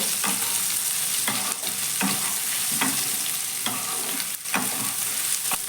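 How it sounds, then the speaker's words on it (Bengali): Spice-marinated soybean chunks fry over a high gas flame in hot oil, giving a loud, continuous close-up sizzle broken by repeated scraping stirs, with no voices. "এবার ম্যারিনেট করে রাখা বা মশলাটা মাখিয়ে রাখা সয়াবিনটা আমি তেলের মধ্যে দিয়ে দেব গ্যাসের ফ্লেমটা বাড়িয়ে রেখে সয়াবিনগুলো খুব সুন্দর করে লাল লাল করে ভেজে নিতে হবে"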